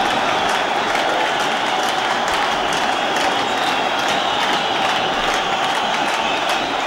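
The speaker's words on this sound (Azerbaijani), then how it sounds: "Alqışlar Xəzər Lənkərana oyunun 56-cı dəqiqəsində." Sustained stadium applause and crowd noise after a Xəzər Lənkəran goal in a football match against Qarabağ, a steady, even wash of clapping and cheering that holds at the same level throughout, with no voices standing out above it.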